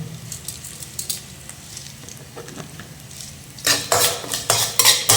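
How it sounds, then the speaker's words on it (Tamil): Rock salt being stirred with curry leaves in a pan for lemon rice, starting with faint clinks and then bursting into a run of loud, rhythmic metallic scrapes and clatters in the second half. "நம்ம கரைக்கிறோம் கல்லுப்பு"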